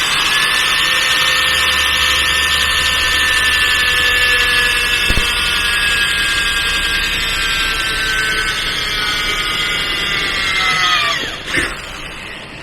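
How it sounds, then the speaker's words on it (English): A step drill bores through a truck door panel during a restore on an OBS Ford dually, giving a loud, steady high-pitched whine with metallic overtones that runs unbroken for about eleven seconds before winding down. "Use the step drill."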